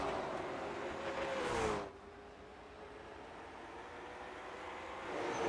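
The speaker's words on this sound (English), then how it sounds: "New engine sounds here for me once again." A race car engine in the iRacing sim at Hickory Motor Speedway drones steadily, swelling loudly as it passes close at about one and a half seconds, then settling to a lower, more distant hum with no voices.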